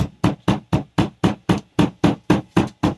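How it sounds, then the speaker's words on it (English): A very smooth hammer taps the stitched seams and corners of a leather moccasin, giving about a dozen sharp, evenly spaced knocks, close and clear. "the other one is with the aid of a hammer, very smooth hammer,"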